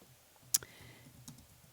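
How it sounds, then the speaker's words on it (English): A few sparse computer-keyboard keystrokes sound in a quiet room, with one sharp click followed by fainter taps about three-quarters of a second apart. "typing it in"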